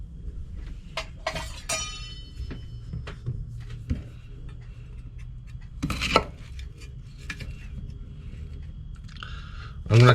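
Knife slicing apples and pears on a board in a kitchen, with scattered sharp cuts and clinks, a few louder chops and a thud near the end, amid light background noise.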